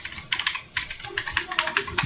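Quick bursts of keystrokes on a computer keyboard as a password is entered, close and crisp in an uneven clicking rhythm, with no talking over it.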